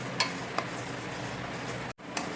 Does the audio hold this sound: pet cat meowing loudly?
no